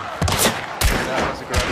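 Three loud bursts of gunfire ring out in the video game Hunt Showdown, each a sharp crack with a rumbling tail, spaced less than a second apart.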